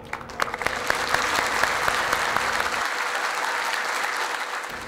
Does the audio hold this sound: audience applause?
yes